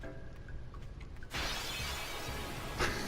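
Battle-start screen shatter effect from Final Fantasy X HD, a sudden bright glassy crash that bursts in after a quieter stretch and lingers as a dense crackling wash, with a brief sparkle near the end.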